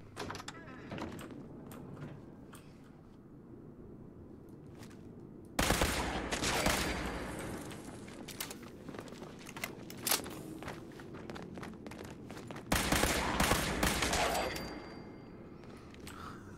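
A gun firing in Fallout 76, with rapid volleys of shots that start abruptly after a quieter stretch, pause briefly, then resume, loud and close alongside footstep-like movement.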